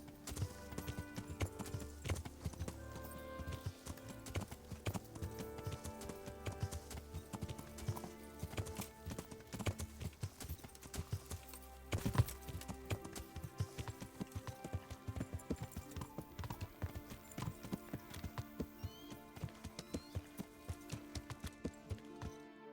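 Horse hooves clip-clop steadily on the ground in a video game, a continuous rhythmic gait of quiet, close hoofbeats lasting throughout.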